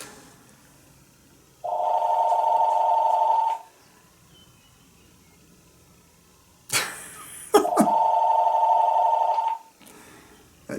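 A mobile phone rings in a quiet room during a seminar presentation, two sustained bursts of electronic ringtone separated by a short silence, with some handling noise in between.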